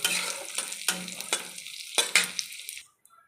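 Continuous sizzling of raisins frying in hot ghee, punctuated by several sharp scraping stirs of a utensil against the pan, close by.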